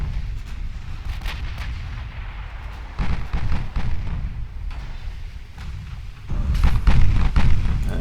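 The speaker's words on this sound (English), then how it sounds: "Someone just got hit by a torpedo." A torpedo strikes a ship during a dreadnought-era naval battle in the warship game Ultimate Admiral Dreadnoughts, with repeated heavy booms and rumbling blasts that swell louder near the end.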